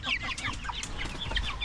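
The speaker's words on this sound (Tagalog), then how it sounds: "Ito yung mga manok natin." Several backyard chickens cluck busily nearby, overlapping short calls in a continuous chatter.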